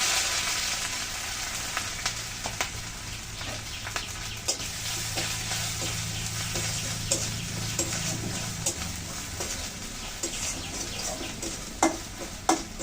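Grated coconut frying in a pan with mustard seeds, turmeric and oil for a mango dal, a steady broadband sizzle with frequent sharp crackles and occasional stirring scrapes, close and alone throughout.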